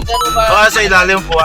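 A mobile phone ringtone plays a repeating melodic tune throughout, loud and close, while several people talk over it in Tagalog, searching for the phone.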